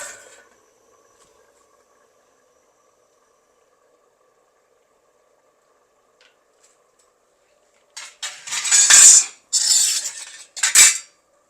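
A lid is set down on a pot of coconut milk chicken biryani on low heat, giving a few sharp metallic clanks and scrapes close by after a long quiet stretch.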